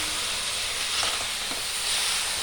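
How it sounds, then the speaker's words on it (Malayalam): Crab pieces drop into frying chilli and coriander masala for a crab curry, and a steady, close hiss of sizzling fills the pan with a couple of faint knocks, no voices. "ഇനി ഇതിലേക്ക് നമുക്ക് ഞണ്ട് കുടഞ്ഞിട്ട് കൊടുക്കാം"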